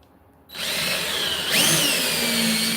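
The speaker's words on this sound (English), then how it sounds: "Let me get you drilling through here." A power drill bores through wood while a tube sander is being built, starting abruptly and whining steadily at close range, its pitch shifting partway as the bit bites in, with no talk.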